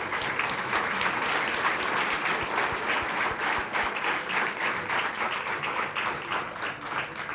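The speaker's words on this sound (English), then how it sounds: "A huge round of applause, please." An audience at an induction programme gives a sustained round of applause, dense and even clapping that stays loud for several seconds with no talk over it.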